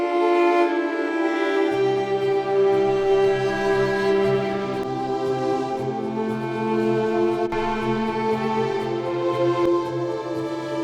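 A grouped string section with a heavy EQ cut around 2 kHz plays sustained layered chords, with low notes entering after a moment, smooth and steady with no voices.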